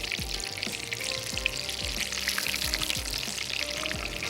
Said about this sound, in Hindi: हम यहाँ से ले लेते हैं फ्राइंग पैन और कबाबों को भी थोड़ा सा पलट लेते हैं